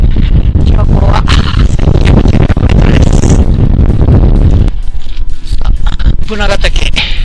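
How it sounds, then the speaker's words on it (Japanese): Strong wind buffets the microphone on the summit of Mount Bunagatake on a whited-out mountain ridge traverse, a loud, continuous roaring rumble with gusty surges and a brief lull near the end. "強風吹き荒れてますけどね。"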